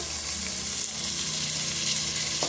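Tomatoes sauté in a hot pan for Andhra-style malli pongal, giving off a steady, soft, close sizzle with no voices.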